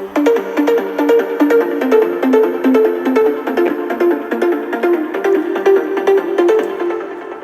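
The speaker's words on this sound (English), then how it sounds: "As you can hear, it's like a rounding plug sound." Rounded plucked synth from Spire in a big room EDM track, quick bright notes in a steady repeating melodic run, loud and alone.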